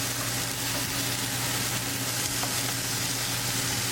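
Breaded rockfish frying in a pan, a steady, loud, close sizzle that never lets up, with no other sounds over it.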